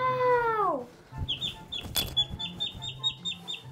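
Two ducklings newly bought as pets give rapid, high, thin peeps in a quick repeating series, close and fairly faint, after a brief voice at the start.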